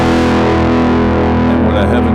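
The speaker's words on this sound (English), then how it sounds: "Stadium distortion, obviously, we're going to get a little more going on here." Heavily distorted electric guitar through a Fender 5E3 amp model in Ableton with a stadium distortion setting, a loud, dense sustained chord ringing with thick saturated tone.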